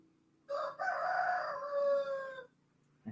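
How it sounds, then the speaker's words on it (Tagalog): A rooster crows once close by, a loud drawn-out call of about two seconds that rises and then trails off, standing alone against a quiet background. "yung mga manok namin dito"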